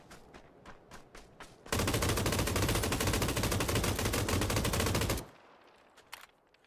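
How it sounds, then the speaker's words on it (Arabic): Sustained automatic weapon fire in the video game PUBG, a dense unbroken burst lasting several seconds, loud and close, bracketed by a few scattered single shots before and after. "46 طلقة بس عشان اقتل واحد"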